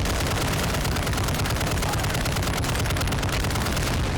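Gunfire from a custom Warzone 2 loadout using a Rhino barrel and Shred CP90 muzzle: a loud, continuous burst of rapid automatic shots with dense, booming reports, heard alone throughout.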